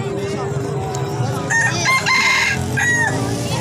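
A rooster crows loudly nearby in the second half, its call drawn out over a busy outdoor background with clucking fowl and a low steady hum.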